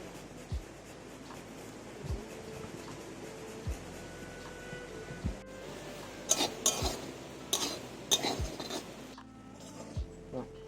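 Ginger is grated over coconut by hand, producing short, sharp scraping strokes at a slow, regular pace with a few clinks of kitchenware in a quiet room.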